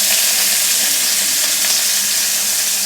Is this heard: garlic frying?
yes